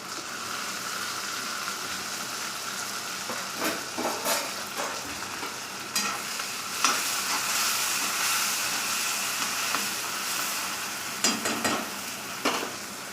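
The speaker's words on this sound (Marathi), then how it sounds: "आता आपला कांदा भाजत आलेला आहे। आपल्याला टमाटर टाकायचं आहे।" Onion sizzles steadily in a hot pan while cooking for a soybean curry, a constant hiss with clattering stirs, then tomatoes go in with sharp bursts of louder sizzling near and alone.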